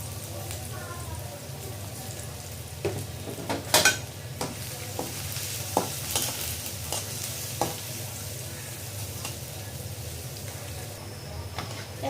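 Onion and garlic fry lightly in a pan for a red amaranth greens dish, a low sizzle under scattered scraping and clacking stirring strokes. A few sharper knocks stand out partway through, and a voice briefly speaks over it.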